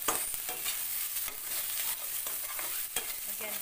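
Tinolang manok, a chicken dish with spring onions, cooks in a pan with a steady close hiss and repeated scraping stirs and light utensil knocks.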